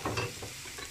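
Garlic stirred and frying in a pan, a short burst of soft scraping and low sizzle at moderate volume with no voices, while onion and huitlacoche cook alongside for Puebla-style molotes filling.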